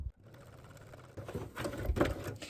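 A sewing machine runs a seam on lounge pants, starting after a brief pause and building into a close, steady mechanical whir with soft rhythmic ticking.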